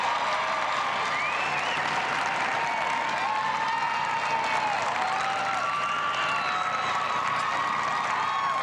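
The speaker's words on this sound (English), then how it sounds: "Crowd lights up for the Clumber." Applause and cheers swell from the crowd at the 1996 Westminster Kennel Club Dog Show as the judge reaches the Clumber spaniel, a sustained roar of clapping with whoops and shouts rising and falling over several seconds.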